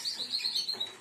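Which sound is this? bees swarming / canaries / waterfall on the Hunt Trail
canaries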